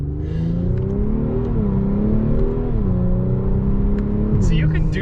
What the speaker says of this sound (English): So you can do sporty driving with the Q50 Red Sport.